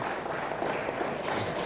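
An audience applauds an award recipient at a conclave ceremony in a hall, a brief, dense and continuous burst of clapping at moderate loudness.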